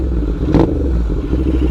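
A Royal Enfield Interceptor 650 motorcycle with a 2-in-1 exhaust and cam kit idles close and loud, its low, steady rumble briefly lifting in one short blip.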